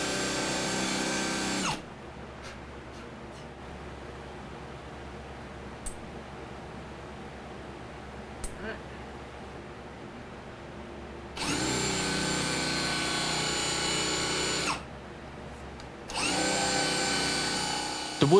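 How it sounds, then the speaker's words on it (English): A hand-held power drill boring holes in wood whines loudly for a couple of seconds, falls quiet for a long stretch with faint knocks, then runs again in two steady bursts. "so we made do with the next best thing: pressing a drill."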